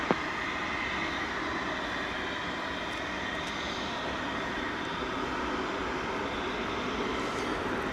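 Airplane taking off from runway 18 left at DFW Airport at night, a steady broadband engine roar holding at a fairly even loudness throughout, with no voices.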